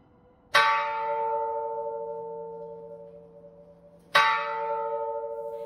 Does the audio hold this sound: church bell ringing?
yes